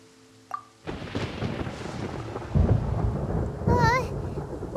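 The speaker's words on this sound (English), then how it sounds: "Paimon hears thunder!" Rolling thunder rumbles in a Genshin Impact storm, a sharp crack first, then a long heavy roar that swells and surges, with a bright electronic warble rising near the end.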